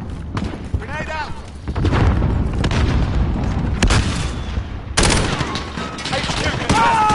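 An explosion and gunfire in the Modern Warfare video game during a fight over a headquarters objective, loud bursts and shots landing repeatedly through the clip, with in-game voice callouts over the top.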